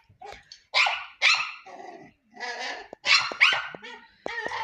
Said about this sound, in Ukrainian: це довго ця собака буде гавкати